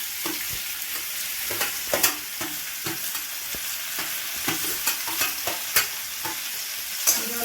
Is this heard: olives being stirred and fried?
yes